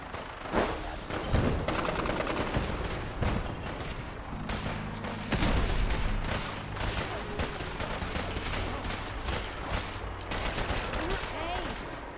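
Rapid gunfire from the PC video game Fallout 4 fills the scene, with dense overlapping bursts and single shots cracking continuously at steady loudness.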